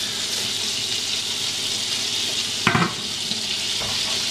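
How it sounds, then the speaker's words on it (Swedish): Scallops frying in a hot pan give off a steady, continuous sizzle throughout, with a brief clatter of a utensil or pan movement partway through and a softer knock near the end. "då ska jag steka pilgrimsmusslorna här"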